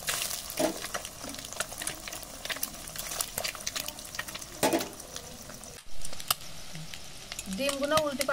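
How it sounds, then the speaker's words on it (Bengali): Egg pieces fry in well-heated oil in a wok, giving a steady close sizzle dotted with sharp pops and crackles, with faint voice sounds at moments. "ডিম ভেজে নেব।"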